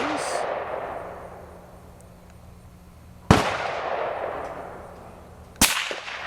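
Two loud, sharp rifle gunshots while sighting in an AGM thermal scope outdoors, each a sudden crack followed by a long fading echo, spaced a couple of seconds apart.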